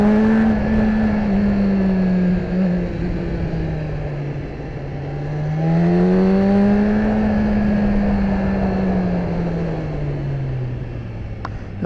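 A BMW S1000RR motorcycle engine runs steadily on a backroad, its loud tonal drone sliding down, then rising again as the bike accelerates before easing off, with wind rush throughout.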